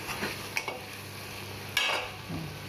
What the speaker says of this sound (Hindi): कम आँच पर, बिल्कुल आँच को कम कर देंगे, इसको रोस्ट करेंगे।